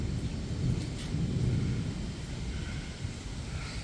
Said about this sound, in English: Want to join me for a storm?